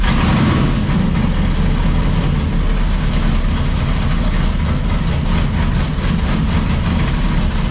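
A turbocharged truck with a T56 transmission, idling at a steady, loud, low rumble for the whole stretch, with no break and no voices.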